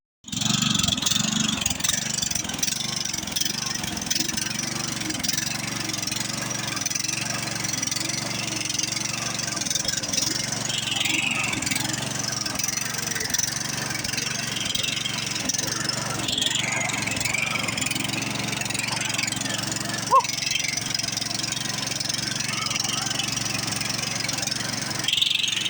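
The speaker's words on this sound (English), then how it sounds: "now we're going to go for a little ride and see how she runs" An old red Murray riding mower engine runs steadily throughout, a continuous close mechanical drone with little change in level apart from one brief knock near the end.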